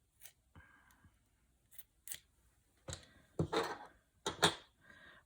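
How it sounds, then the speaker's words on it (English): Scissors snip fabric close by for a quilt-as-you-go scrappy lap quilt: a few light crisp cuts, then a louder cluster of crunchy snips near the end, with no talking. "We'll just snip it."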